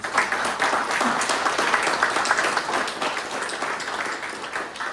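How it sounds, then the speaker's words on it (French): An audience at an annual general meeting gives sustained, moderately loud applause, many hands clapping steadily and tapering slightly toward the end. "donnez-vous une bonne main d'applaudissement"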